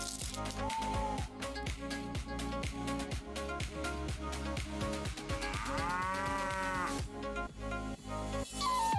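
Cattle mooing in the video game Prophesy of Pendor, heard through a dense, loud stretch of game music and sound effects with repeated sharp hits and no talk.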